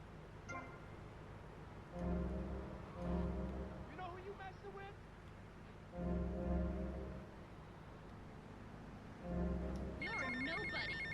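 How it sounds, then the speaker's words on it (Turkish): A telephone rings repeatedly in the video game GTA Vice City Definitive Edition, loud electronic ring bursts recurring every few seconds amid game sounds. "telefon çaldı sonunda"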